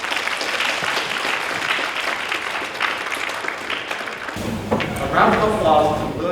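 Audience applause fills the room after a Chinese opera performance at a university arts faculty anniversary showcase, a steady wash of clapping that carries on under a voice speaking, with the texture shifting partway through.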